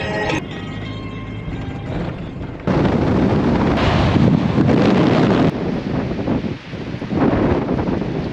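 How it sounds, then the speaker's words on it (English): Strong wind buffets the microphone outdoors on a road trip in New Zealand, near Lake Tekapo, as a steady broadband roar that surges louder after a few seconds and keeps gusting, with no voices. "It's so windy."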